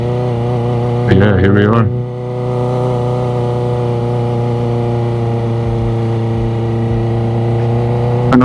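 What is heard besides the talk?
motorcycle riding at slow speed downtown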